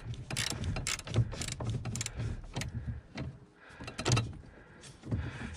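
Ratchet clicking in short bursts as it backs out an 11 mm screw from the steering column of a 1968 Dodge Charger, close and fairly loud, with brief pauses and metallic handling noises between runs.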